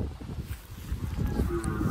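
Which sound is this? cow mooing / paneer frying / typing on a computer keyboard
cow mooing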